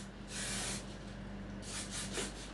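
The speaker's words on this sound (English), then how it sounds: "So you will hair spray a little bit at the ends" Hairspray hisses from a can onto the ends of short blow-dried hair in two soft bursts, quiet and close.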